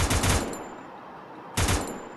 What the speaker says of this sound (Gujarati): બંદૂકડીને ટેસ્ટિંગ કરવું હવે